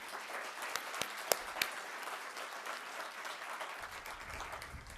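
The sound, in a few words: applause for the county board president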